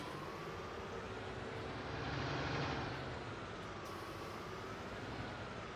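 A Ford tractor engine in Farming Simulator drones steadily at a low, constant rumble, with a faint whine riding on top and no talking.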